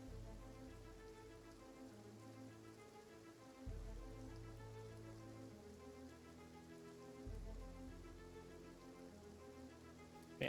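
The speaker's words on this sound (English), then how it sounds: "Oh hey, he can hear the rain now." Rain falling in the zombie survival video game Project Zomboid, a steady patter on surfaces with low background hum and two brief swells in intensity, no voices.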